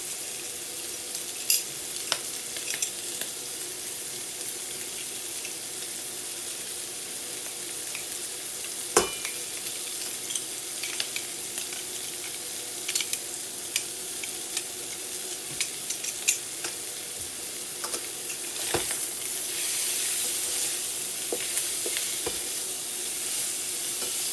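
Chopped onion and garlic sizzle in olive oil in a skillet, a steady bright frying hiss throughout with occasional clicks and stirring scrapes, no voices.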